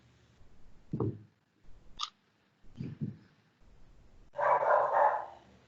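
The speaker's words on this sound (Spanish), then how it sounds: "El perro." A dog barks in the distance during an online meeting, a few short separate barks followed by a louder, longer burst near the end, with quiet gaps between them.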